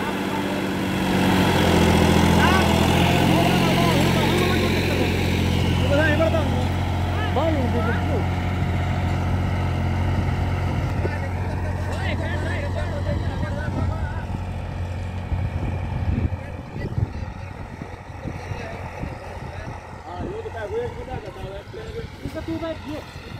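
A Massey Ferguson 9500 tractor's diesel engine runs steadily at 1800 rpm in first gear, a loud continuous drone under someone talking throughout.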